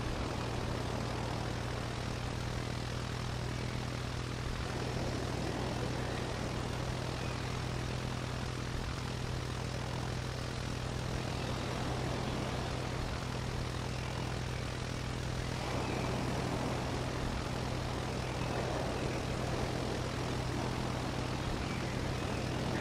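Engines of a Cessna propeller plane in Roblox Aeronautica hold a steady, loud low drone, with a constant hum and broadband wash running through the whole stretch.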